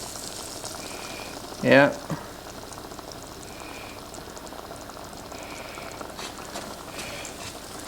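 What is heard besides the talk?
butter foaming and browning in a pan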